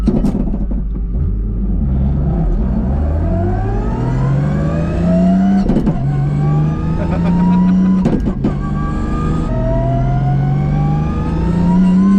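A 1JZ VVT-i engine in an IS300 with a Samsonas six-speed sequential gearbox drives off and revs hard, its loud, close engine note climbing through the gears with sharp, abrupt breaks at each shift.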